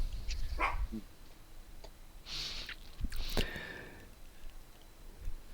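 Puppies bark and yip in a few short, scattered bursts, fairly faint, with a whimper among them and quiet gaps between.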